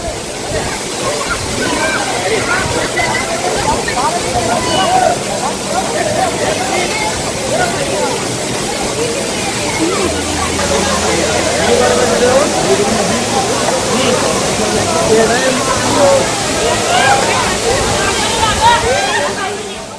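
A 40-foot waterfall, Sundi (Savati Vazar), roars steadily throughout, a loud rushing wash of falling water with a murmur of voices mixed into the noise.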